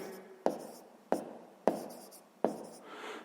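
A pen writes out the answer to a sixth-grade maths problem on paper, with four distinct scratchy strokes tapping down in a loose rhythm, close and quiet.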